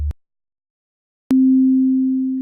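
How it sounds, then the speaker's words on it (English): A sine wave oscillator in VCV Rack plays middle C, a pure steady tone that starts abruptly after a brief low blip and silence, then holds loud and clean. "So the sine wave, if I play a middle C,"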